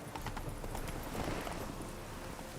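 Roach the horse galloping in The Witcher 3, a steady run of faint hoof clip-clops under game ambience.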